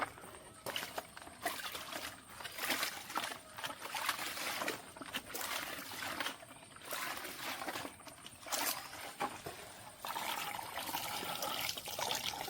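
Water splashing and trickling in a bucket as hair is rinsed after a homemade rice water shampoo, a steady wet sloshing that runs throughout the clip at moderate level.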